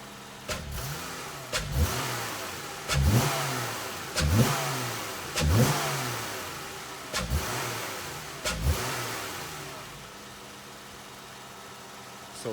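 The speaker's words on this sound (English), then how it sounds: "now that this is open right here, I'm getting air suction in there" A Dodge Challenger SXT engine fitted with an aFe cold air intake revs in repeated sharp bursts, about seven throttle blips each rising and falling, fairly close, with a low idle between and no talking.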